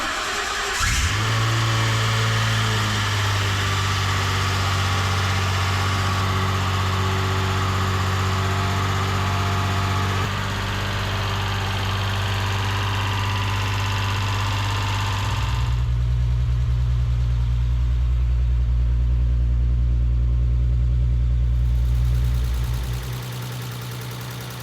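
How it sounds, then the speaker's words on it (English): An RB30-engined Nissan 300ZX cranks and fires, then settles into a loud steady idle with a strong low hum, and the idle drops deeper near the end before the engine cuts off. "It's always nerve-wracking starting your car"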